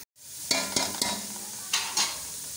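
Onions fry in a pan until brown for spicy Hyderabadi chicken pulao, giving a steady close sizzle broken by a few sharp stirring scrapes and knocks.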